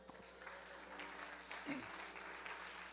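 A church congregation gives sustained clapping and cheering to acclaim the Lord during a French-language sermon, with voices calling out through the steady applause.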